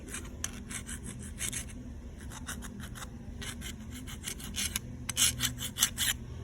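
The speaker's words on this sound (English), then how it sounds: "with a hand file. And don't go crazy with it, but just enough to get the glaze broken off of this bearing surface." A hand file rasps across the glazed bearing surface of a Honda or Briggs-style small-engine recoil starter. Brisk back-and-forth scraping strokes repeat in an uneven rhythm, close and clear, with no voices.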